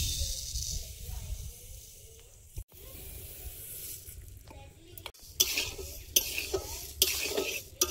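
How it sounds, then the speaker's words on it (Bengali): Mung dal is fried in a hot kadai, with scraping and stirring of a spoon against the metal pan over a soft, steady sizzle and occasional sharper clinks, close up and with no one speaking. "কড়াইটা গরম হয়েছে, মুগ ডালটা ভেজে নেব।"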